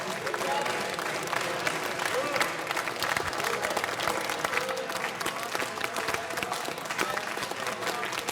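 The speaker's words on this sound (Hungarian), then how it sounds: "Ez a fasiszta taps kell magának?" Applause in a parliamentary chamber, a dense and steady clapping from a large crowd that carries loudly through the whole stretch, with voices faintly mixed underneath.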